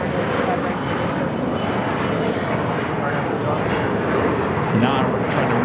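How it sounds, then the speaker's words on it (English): An Air New Zealand Boeing 777 in All Blacks livery, arriving at LAX from Auckland, makes a steady, loud, broad jet roar that holds throughout, with a voice talking over it. "The next arrival is Air New Zealand Flight 6, coming in from Auckland, the 777 in the All Blacks livery."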